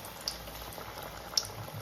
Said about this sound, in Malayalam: തിളച്ച എണ്ണയിലോട്ട് ഇടാൻ പറ്റുള്ളൂ.